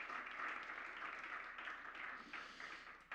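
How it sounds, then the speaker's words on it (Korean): Church audience applauding to welcome new members at a young adults' service, a steady wash of clapping at moderate distance that holds for about three seconds with no talking over it. "우리 처음 찾아준 새 친구들을 향해서 마음을 담아서 박수를 한번 보내도록 하겠습니다"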